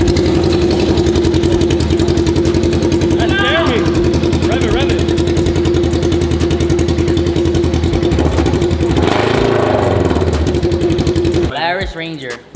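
A Yamaha YXZ1000R side-by-side running with its exhaust can removed gives a loud, steady, raw engine drone throughout, with voices talking over it before the sound cuts off abruptly near the end.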